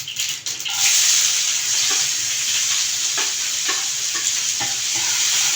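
Chopped onion sautés in a pan with cumin seeds, giving a bright, steady sizzle up close, with repeated stirring scrapes spaced every second or so and no talking.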